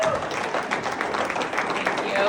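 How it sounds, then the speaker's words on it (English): Applause from a celebration audience for an honoree, a steady wash of many hands clapping at moderate volume with scattered louder claps, no clear speech over it. "please give a huge round of applause for Mrs."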